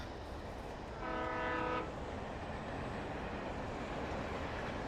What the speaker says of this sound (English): Oh, there's the train.